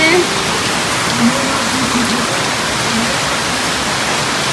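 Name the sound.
heavy rain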